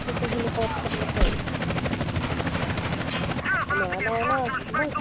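A helicopter in the video game GTA San Andreas thrums steadily with a rapid rotor chop, mixed with in-game gunfire bursts and a sharp hit, while a player talks over it and game voices chirp.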